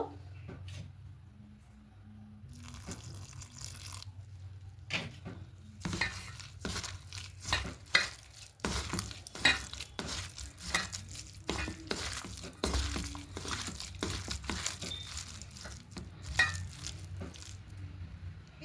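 Spices and ingredients being kneaded and mixed by hand in a bowl as water is added bit by bit, giving repeated soft squelching, clinking and stirring noises at close range with no talking.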